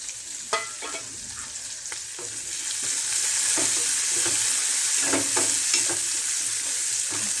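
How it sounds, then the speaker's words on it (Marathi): Green chilies and garlic frying in a pan: a steady sizzle with scattered stirring clicks and scrapes, growing fuller after a few seconds, close and alone without voices. "मिरची टाकूया. मिरची पण भाजली जाईल ना लसूण बरोबर."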